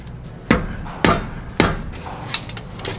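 Five sharp mallet blows ring out with no voices, spaced about half a second apart. The first three are loud and close, and the last two are lighter taps.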